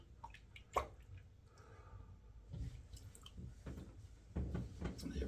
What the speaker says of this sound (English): Just washing the soap off my fingertips here so I can hold that razor.